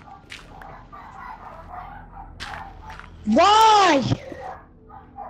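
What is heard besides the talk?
dogs barking in Minecraft video game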